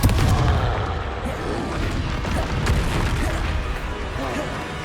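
Bombarda and Confringo blasting spells going off in Hogwarts Legacy: dense, rumbling booms and crackling bursts running continuously at high loudness, with a heavy low-end roar throughout.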